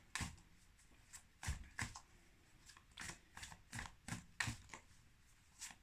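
Oracle cards being shuffled in quick bursts of crisp riffling and flicking, roughly eight short rustles spaced irregularly over a quiet background.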